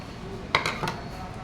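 The needle plate comes off a Juki sewing machine with a few brief, light metallic clinks up close over a quiet background.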